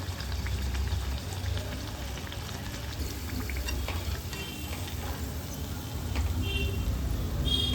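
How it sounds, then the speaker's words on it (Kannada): A crisp semolina (rava) snack deep frying in hot oil, a dense, continuous bubbling sizzle that stays close and fairly even throughout, with no voices over it. "ಈ ಹದದಲ್ಲಿ ಚೆನ್ನಾಗಿ ಗರಿ ಗರಿಯಾಗಿ ಫ್ರೈ ಮಾಡ್ಕೊಂಡಿರಬೇಕು"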